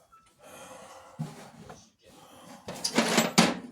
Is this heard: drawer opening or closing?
yes